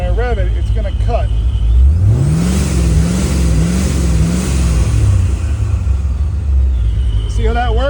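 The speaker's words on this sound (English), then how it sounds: "I've got the engine running, and at 2500, when I rev it, it's going to cut" A car engine on a Holley Terminator X system revs up and hits a limiter set at 2500 rpm, its drone rising then wavering as the power cuts in and out, close and steady over a low rumble.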